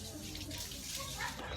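Free natural spring water flows and splashes continuously, a broad steady rush close by with no break.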